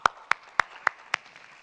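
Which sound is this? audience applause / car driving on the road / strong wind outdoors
audience applause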